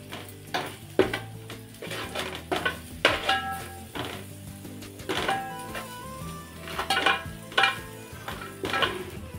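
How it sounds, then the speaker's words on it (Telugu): A spoon scraping and clinking against a pan in irregular strokes as coriander powder and garam masala are stirred in, with light sizzling underneath; no voices. "ఇప్పుడు అవన్నీ కలుపుకుందాం"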